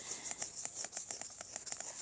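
Acid rain in the mobile video game Worldbox gives a quick, rhythmic pattering of light, crisp ticks repeating evenly at moderate loudness, with no voices.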